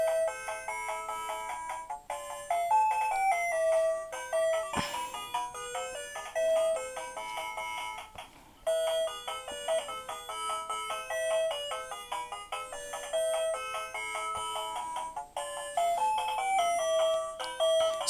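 A Tetris alarm clock rings out the Tetris theme as a thin, beepy electronic melody, repeating steadily and fairly loud for the whole stretch, with a couple of short pauses and no talking.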